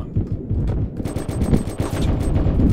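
Rapid automatic gunfire in the Roblox shooter Recoil on the Nuketown map, dense bursts of shots crackling steadily and loudly for nearly three seconds with no pauses.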